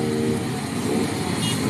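Steady, continuous engine roar of motorbikes close by at an Easter blessing in the Philippines, a dense rumble without pauses as they pull away together.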